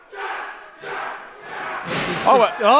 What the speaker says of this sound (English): feeding off the energy of the crowd here in Cambridge